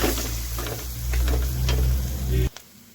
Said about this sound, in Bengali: মশলার সাথে ভেজে নিই একদম ভেজে শুকনো করে নেব